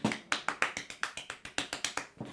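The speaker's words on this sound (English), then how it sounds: "that's actually me actually clapping" One person claps alone in a steady series of about a dozen sharp, close claps, evenly spaced and fairly quiet.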